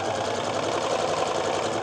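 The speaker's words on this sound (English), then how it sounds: "Now I'm going to sew all of my blue squares to one side of my rectangle." A home sewing machine runs steadily, stitching blue quilt squares onto fabric rectangles for a dahlia and gentian sampler quilt block, a continuous whirring hum with no talk.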